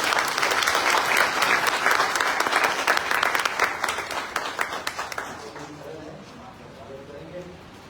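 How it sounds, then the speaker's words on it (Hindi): A church congregation at a Sunday service applauds to welcome committee members, dense clapping that thins and fades out after about five seconds, followed by quieter room sounds. "हम तालियों के साथ इनका स्वागत करेंगे।"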